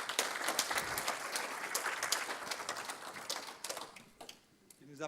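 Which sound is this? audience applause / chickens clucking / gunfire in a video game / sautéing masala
audience applause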